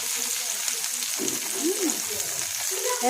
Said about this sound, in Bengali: আস্তে আস্তে করে ভাজতে হবে, গ্যাস কমিয়ে।